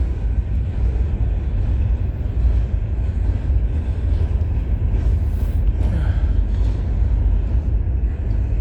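A freight train passes trackside at night with a constant heavy low rumble and rolling rail noise, loud and near throughout, without any talking.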